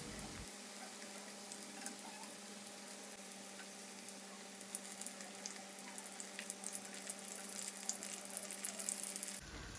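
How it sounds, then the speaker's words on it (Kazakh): Chebureks frying in hot oil and browning on both sides give off a steady, even sizzle with a bright hiss that holds for the whole stretch. No one speaks. "Қалған чебуректерімізді де дәл солай екі бетінен қызартып, майға қуырып аламыз."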